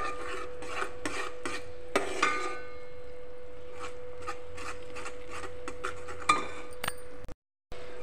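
Ghee melts in a pan for atukula laddu while a utensil stirs, giving faint scraping and rubbing strokes, occasional clinks against metal, and a steady low hum, ending in a short silence.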